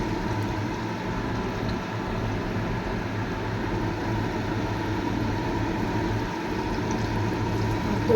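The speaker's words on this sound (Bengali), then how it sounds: "এই যে পকোড়া ভাজা চালু হয়ে যাচ্ছে।" Pakoras fry in hot oil as an evening snack, giving a continuous close bubbling sizzle with a low rumbling undertone, steady and even throughout without talk.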